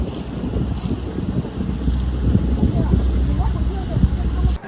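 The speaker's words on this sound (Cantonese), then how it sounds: "我哋坐上遊船啦，去遊洱海" A tour boat cruises on Erhai Lake near Dali in Yunnan, with a low engine rumble and rushing wind buffeting the microphone throughout.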